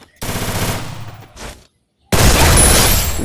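Automatic gunfire from the mobile battle-royale game Free Fire, two loud rapid bursts separated by a short silence, the second heavier and continuing to the end, close and dominant.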